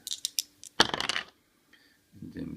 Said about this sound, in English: He needs a really good dice roll.